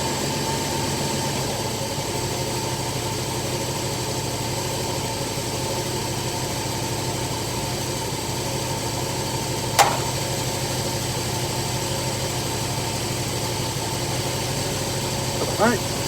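A car engine idling at about 700 RPM in drive, a steady low hum with a faint tick and a brief click partway through, continuous and even throughout, with no talk.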